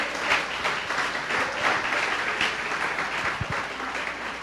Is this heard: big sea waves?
no